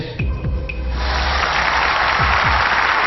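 An audience at a singing contest finale claps, starting thin and swelling within a second into a loud, sustained wash of applause.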